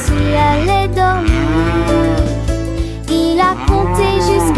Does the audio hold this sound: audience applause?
no